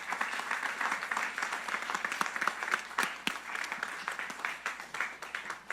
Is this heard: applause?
yes